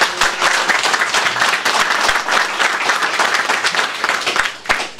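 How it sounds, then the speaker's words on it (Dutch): At a tool shop opening in Haarlem, a gathered crowd applauds the owner Sander, lively close clapping with distinct individual claps standing out from the dense patter for about five seconds, no voices over it. "applaus voor hem."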